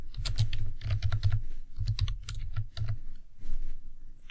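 Computer keyboard keys tapped in quick bursts while button text is typed into a web page editor, the clicks close and fairly loud, with short pauses between runs and no voices.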